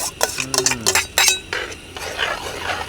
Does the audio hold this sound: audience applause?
no